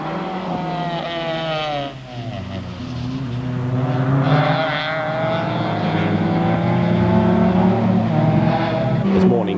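Group N saloon racing cars, including BMW M3s, roar past on a circuit in the 1994 British National Saloon Cup; high-revving engines rise and fall through gear changes, loud and close, with one car following another.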